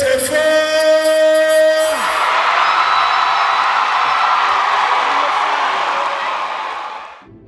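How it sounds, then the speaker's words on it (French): An audience cheers and whoops for the organiser at a Cameroonian cultural event in Brussels, loud and sustained. The crowd noise follows a held musical tone and fades near the end. "je voudrais qu'on applaudisse encore l'organisateur, s'il vous plaît"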